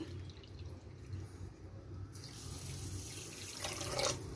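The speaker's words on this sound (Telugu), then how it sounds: "అదే కప్తోని 1 కప్పు వాటర్ యాడ్ చేసుకోవాలండి" A cup of water is poured into sugar to make syrup for Bombay Karachi corn flour halwa, a continuous close splashing pour that grows louder toward the end, with no talking.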